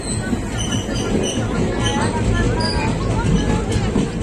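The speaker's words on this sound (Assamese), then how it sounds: "তো ট্ৰেইনবিলাক ইফালে আছে" Train noise, with a rumbling rail-car hum, wheel squeals and clatter, fills the clip while a person talks over it.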